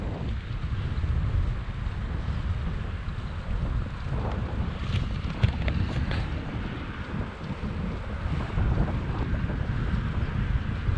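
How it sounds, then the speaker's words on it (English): A strong headwind buffets the microphone during a bike ride along a river in Tokyo in March, producing a continuous loud, low rumbling roar with no pauses. "We found a headwind."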